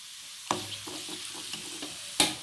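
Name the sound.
stirring cooked prawns in a pan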